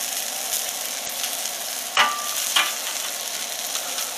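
Chopped onions sizzle on a hot flat-top griddle during a smash butter burger cook, a steady close frying hiss with two brief metallic clicks of a spatula partway through.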